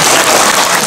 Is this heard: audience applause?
yes